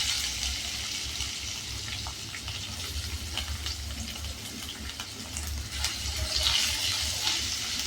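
Onion frying in a pan with masala for Hakka noodles, a steady close hiss and sizzle with occasional stirring scrapes, no talk heard.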